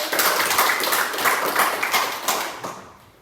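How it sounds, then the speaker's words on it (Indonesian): Students in a classroom clapping as applause, a brief burst of many hands clapping close by that fades out after about three seconds. "Aplaus."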